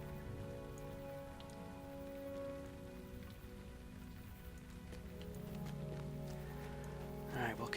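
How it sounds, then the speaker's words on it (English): Rain falls in a video game, a steady patter of drops on surfaces with a low tonal hum beneath, quiet and continuous with a faint rising swell near the end. "they did a really nice job with making it appear like the rain is falling away from you"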